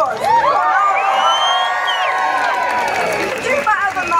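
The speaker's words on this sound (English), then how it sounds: "give yourselves a big round of applause" A packed Pride crowd in Sneddon Square, Nottingham, cheers, whoops and shouts loudly and continuously, a dense wall of voices with applause mixed in.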